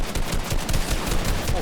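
Rapid gunfire from a one-on-one video game match rattles on steadily and loudly for a moment, dense shots running together without a break.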